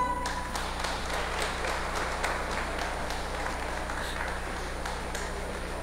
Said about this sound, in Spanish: Vamos a un fuerte aplauso a Jesús.